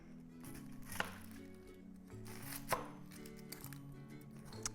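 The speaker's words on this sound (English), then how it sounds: "The next step is you're going to thinly slice your red onion." Knife thinly slicing a red onion on a board, a run of soft rapid cuts with a few sharper taps, quiet and close over a low background hum, no talking.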